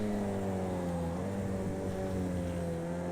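A high-performance road car in the racing game Project CARS 2 lapping a circuit at about 60 mph through slower corners; a loud, steady engine drone holds throughout with no one speaking.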